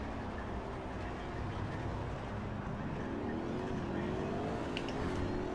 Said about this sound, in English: Car sounds better than it did in Project Cars 2.